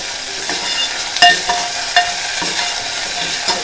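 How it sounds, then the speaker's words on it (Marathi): Ginger, garlic and coriander sauté in hot oil for a Konkan crab curry, with a close, steady sizzle broken by several sharp stirring scrapes. "हे आलं लसूण आणि कोथिंबीर चांगलं हे परतून घ्यायचं तेलावर"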